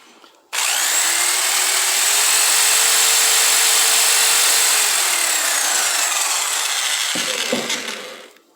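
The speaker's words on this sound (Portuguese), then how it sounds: "a furadeira está trabalhando com a sua tensão máxima" An electric drill whirs at high speed at full voltage, starting abruptly and running steady and loud for several seconds before winding down with a few rattles at the end.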